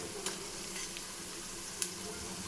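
Garlic ginger paste sizzles and fries in a hot pan for vegetable pulao, a steady close hiss with faint stirring scrapes and a couple of sharp clicks.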